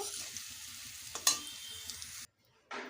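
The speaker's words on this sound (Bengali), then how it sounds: "ওই একই তেলে পটলগুলোকেও ভেজে নেব" Pointed gourd frying in hot oil makes a busy sizzle with stirring scrapes and one sharp clink, then cuts out briefly before a fresh hiss resumes.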